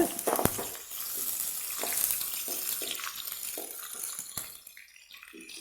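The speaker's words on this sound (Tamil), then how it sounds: "இந்த ஸ்டேஜில் நம்ம வெங்காயம் ஆட் பண்ணிக்கலாம்." Chopped medium onion frying in hot oil in a pan while making chana dal chutney, a steady close sizzle with a few sharp clatters and stirring scrapes, no talk.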